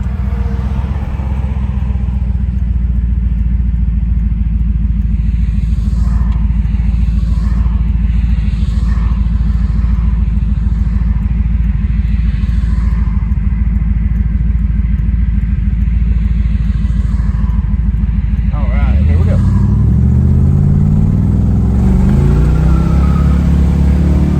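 A 1970 Dodge Challenger R/T SE engine roars steadily while driving, a loud continuous rumble that climbs in pitch near the end as it accelerates.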